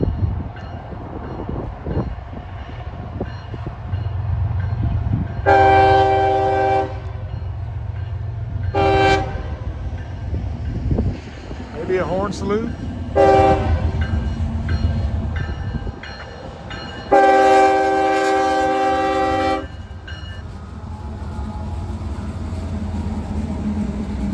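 A freight train of auto rack cars rolls past nearby with a continuous low rumble and rattling, while the locomotive sounds several loud horn blasts, short ones first and then a long one.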